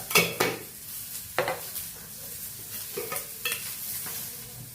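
Half a spoon of coriander seeds fry in a pan with green chilies, close sizzling under several distinct stirring scrapes and clinks of a spoon against the pan, with no talk.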